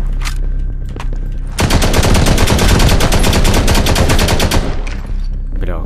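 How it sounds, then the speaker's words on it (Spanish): Loud, rapid automatic gunfire in the mobile shooter Modern Combat Versus, a steady stream of evenly spaced shots running for about three seconds after a few isolated reports, close and dominant. "Pero, ¿cuántas veces hay que dispararle?"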